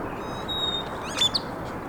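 Birds chirp outdoors beside a playground on a sunny day, with a few thin, high calls, brief and moderately distant, over steady background noise.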